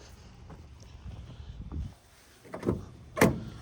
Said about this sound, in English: This door shuts pretty good too.